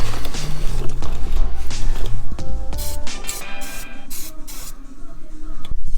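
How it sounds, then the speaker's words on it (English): An aerosol can of spray paint hisses in several short bursts and one longer spray over bare car body metal on a budget race car, close and loud, with clicks and handling noises between the bursts. "give it a spray with paint so it doesn't rust"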